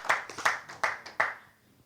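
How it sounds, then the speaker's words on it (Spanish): In a church service, four sharp, evenly spaced claps ring out near and clear, then fade into quiet room ambience. "Un aplauso a Él esta mañana."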